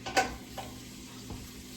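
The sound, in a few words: stirring butter chicken stew with paprika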